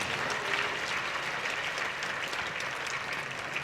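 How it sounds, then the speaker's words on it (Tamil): An audience at a Tamil talk by actor Dhamu claps together in steady, dense applause that fills the room at an even level throughout, with no voices rising above it. "கைத்தட்டுங்கம்மா எல்லாரும்."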